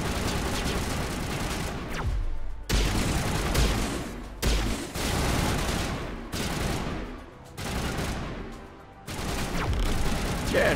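Sustained automatic gunfire in the Mass Effect game, loud dense bursts of rapid shots separated by brief pauses, repeating across the whole stretch at close range.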